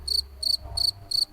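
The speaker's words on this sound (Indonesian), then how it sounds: "Sampai akhirnya ada suara yang sangat keras sekali, suara jangkrik itu." A cricket chirps loudly in four evenly spaced, sharp bursts, close and clear over a low background rumble at night in an Indonesian village.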